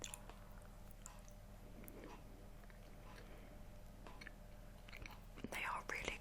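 Close-miked chewing of Oreo cookies, softer and less crunchy than usual, comes through as quiet, steady mouth sounds. A brief louder burst near the end sits over a low, constant background.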